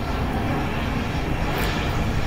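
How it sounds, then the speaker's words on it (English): An airplane flying overhead near an airport makes a broad, steady engine roar that fills the whole moment, loud and continuous, with no voices. "Apologies for the plane."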